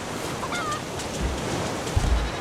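Seagulls cry in the survival video game Raft, a couple of faint high squawks over a constant ocean wash with low thumps near the end, no speech.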